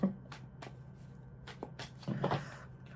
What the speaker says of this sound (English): Well, I can't seem to shuffle the cards, so we have that.